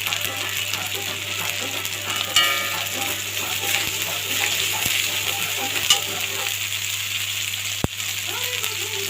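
Spices fry in a hot pan while being stirred, a steady sizzle with scraping and clinking of the spoon against the pan, close and continuous, no speech.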